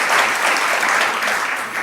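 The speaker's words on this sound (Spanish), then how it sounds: "Damos un aplauso." A church congregation claps steadily during a sermon gathering, a dense, even burst of applause that holds at full strength and eases slightly toward the end.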